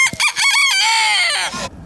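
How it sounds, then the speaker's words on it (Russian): A pet rooster crows once, loud and close, a long strained call that rises and holds before breaking off. "Еще у меня там был домашний питомец петух."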